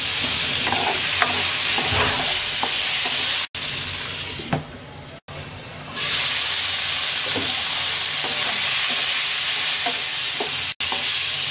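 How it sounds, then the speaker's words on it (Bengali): Pointed gourd (potol) pieces fry in oil in a pan with turmeric and salt, a steady crackling sizzle broken by brief stirring scrapes and a couple of sudden short gaps, loud and close with no talk. "পটল ভাজা হয়ে গেছে, তুলে নিচ্ছি।"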